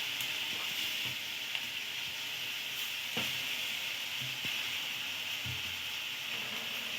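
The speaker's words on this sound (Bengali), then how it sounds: "এগুলো দেওয়ার পরে আর একটু ভালো করে ভেজে নেব" Beans, cabbage and peas frying in a pan with freshly added chopped spring onion greens and coriander leaves, a steady close sizzle with occasional soft stirring taps.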